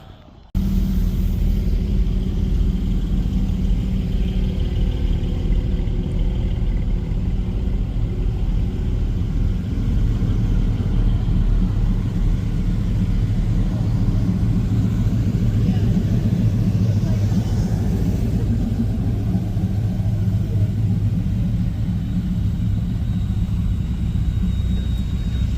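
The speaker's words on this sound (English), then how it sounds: "Car's warming up" A third-generation Chevrolet Camaro idles and warms up on the grid at a track day, a loud, steady low engine rumble holding without a break, with a faint murmur of voices and other cars underneath.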